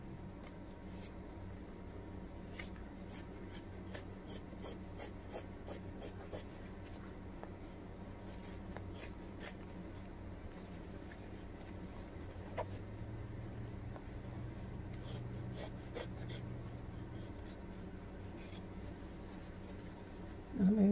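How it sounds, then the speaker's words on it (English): Scissors cutting fabric around the zipper of a sewn bag, a steady series of close, crisp snips and slicing rasps over a low constant background hum, with no talking. "I'm going to cut all the way around this, cutting the zipper off"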